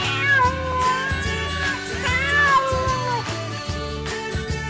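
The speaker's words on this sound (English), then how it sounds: "Cat, cat." A cat meows several times in drawn-out, wavering cries over a steady musical backing.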